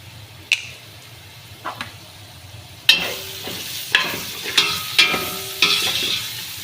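Masala spice powders, including garam masala, cumin and pepper powder, fry in a pan with onions for mutton curry, a soft sizzle broken by about seven sharp spoon scrapes and taps that come more often toward the end.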